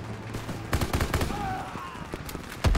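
Gunfire from the World War II shooter Call of Duty: WWII, several loud rapid bursts and single shots cracking through a cluttered battle mix with shouted voices underneath.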